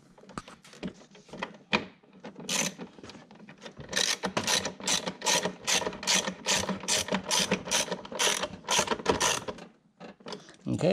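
A ratchet tightens the spoiler mounting screws on a C7 Corvette during a Stage 3 spoiler install, first in a few short bursts, then in a fast, even run of loud clicking strokes close by.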